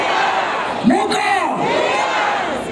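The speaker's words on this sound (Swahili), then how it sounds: "Tumpigie makofi mheshimiwa Mashua" Outdoor political rally crowd in Kiambu cheering and shouting, a loud swell of voices with a sharp whoop near the middle before settling back into a steady roar.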